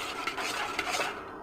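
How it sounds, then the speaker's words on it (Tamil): Curry mixture stirred in a pot, a close scraping, rubbing swirl of a utensil against the pot's base with a couple of light knocks, steady and alone for over a second. "இப்படி கலந்து நல்லா கலக்கணும்."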